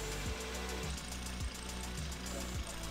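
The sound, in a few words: Volvo XC90 engine idling after PCV repair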